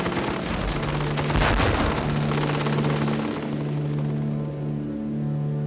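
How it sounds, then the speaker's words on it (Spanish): Machine gun fire in a late-1990s war documentary: dense, loud bursts of rapid shots with booming blasts, sustained and cluttered, settling into a rumbling roar. "La otra era la ametralladora, que se convertiría en una parte vital de la infantería en 2 guerras mundiales"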